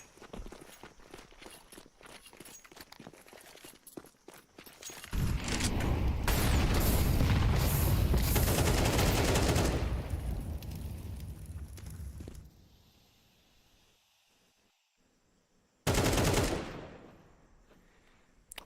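Counter-Strike 2 match with footsteps, then a loud, dense burst of rifle fire lasting several seconds, followed by a quieter lull and one more sharp volley near the end, with little talk.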